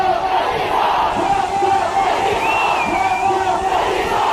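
A large, dense crowd chanting the "vote chor" slogan at a packed gathering, a loud, continuous roar of many voices with no pauses.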